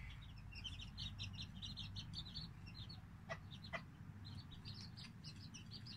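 Quiet, repeated clucking from a hen with chipmunks feeding nearby, small chirps scattered throughout over a low rumbling background.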